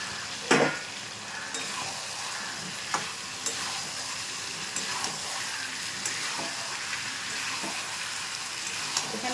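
Potatoes dropped into spiced chicken masala frying in a pan, an initial thud followed by a continuous sizzle with scattered scrapes and taps of a spoon.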